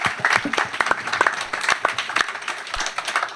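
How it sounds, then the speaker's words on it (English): Audience at a panel discussion on education in Los Angeles applauds the panelists, a modest crowd of scattered, distinct hand claps sounding close and steady throughout, with no talk over it. "Perhaps a round of applause for our panelists."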